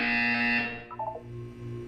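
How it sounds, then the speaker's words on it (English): An electronic buzzer from the video game Portal 2 sounds as a loud sustained harmonic drone for about two thirds of a second, then cuts off into a few faint quieter tones. "When you hear the buzzer, look down at the floor."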